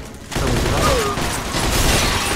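Dense, sustained gunfire fills a Mafia II shootout, a loud rapid fusillade of overlapping shots that starts abruptly and keeps going without a break.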